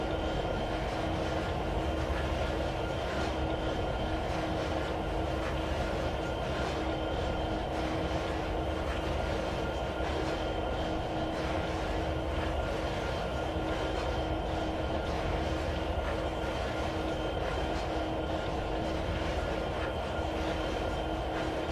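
A train coasting in the Trainz 2022 railway simulator, a continuous steady rumble of wheels and rolling stock with a faint sustained hum, even and unbroken.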